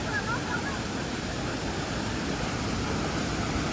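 Clear, cold river water rushing in a steady, dense broadband roar, close and loud throughout with no speech.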